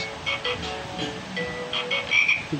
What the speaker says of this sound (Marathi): हाय ना बेडकाचा आवाज